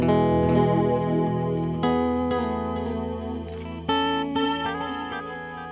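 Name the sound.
chorus effect on delay pedal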